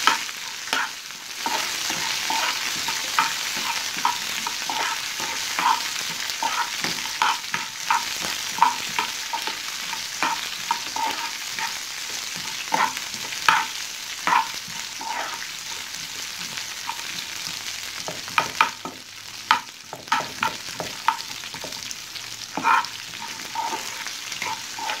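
Onions sautéing in a pan for a red ridge gourd chutney, a continuous close sizzle with frequent clicking scrapes of a spatula stirring them, louder in bursts toward the end.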